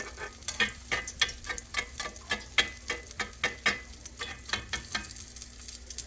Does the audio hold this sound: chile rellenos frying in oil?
yes